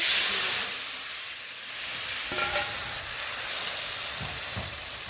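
Whole spices tempering in hot oil for a sweet-and-sour prawn curry, a loud continuous close hiss and sizzle with a brief clink of utensil midway, no voices.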